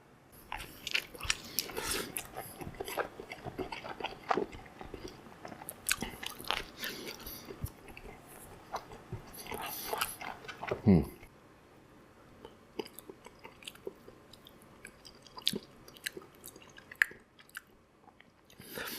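Chicago style pizza being bitten and chewed close up, with repeated crunchy bites and wet mastication sounds over about twenty seconds, loudest in the first half.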